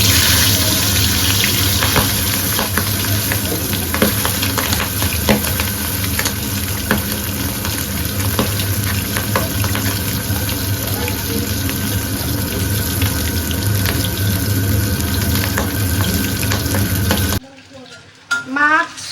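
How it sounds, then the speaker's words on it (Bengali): Fish frying in a pan at home, giving a loud, continuous close-up sizzle that holds steady before dropping away into quieter kitchen clatter at the very end. "মাছগুলো এবার ভাজবো"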